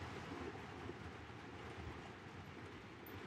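A model train runs on a layout with a faint, steady rumble and soft rail clatter, low and continuous with no clear talk.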